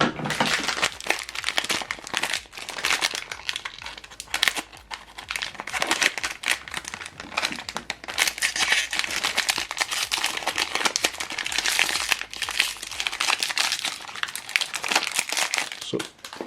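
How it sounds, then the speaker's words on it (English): Plastic wrapping on an HP 303 ink cartridge for an HP Envy Inspire 7220e printer crinkles and crackles up close, dense and continuous for about sixteen seconds with no voices. "You need to pull off this plastic."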